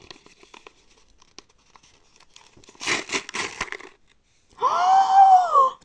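A fan's package torn open by hand without scissors: a brief cluster of crinkling, ripping bursts midway, followed by a louder, sustained tonal squeal near the end.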